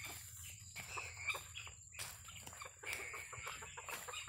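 Chickens and guinea fowl cluck and call outdoors on a farm with sheds, a busy layered stretch of bird noise with repeated sharp calls over a low steady background, moderately close.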